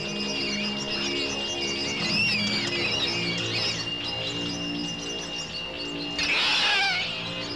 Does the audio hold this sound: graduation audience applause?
no